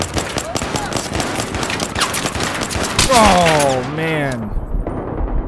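Rapid automatic gunfire in Battlefield 3 on Xbox 360 rattles in fast bursts throughout, loud and close, while someone speaks briefly over the shooting.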